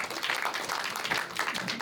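An audience at an event at Punjab Bhawan in Lahore claps for a speaker, a dense, continuous patter of many hands with no let-up.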